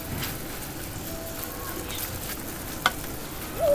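Saucy pork adobo simmers and sizzles softly in a pan while being stirred, with a steady low frying hiss and an occasional clink of a utensil.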